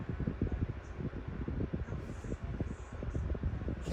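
An 8.5 inch Woozle electric fan runs close to the microphone, giving a steady low buffeting whoosh of air with wind rumble on the mic and no speech.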